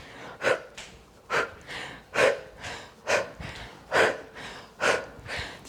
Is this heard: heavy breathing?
yes